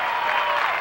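A stadium crowd at a state high school girls' track and field final roars steadily as a runner heads to the finish of the 3200 meters. It is a brief, dense wash of cheering and applause at constant loudness.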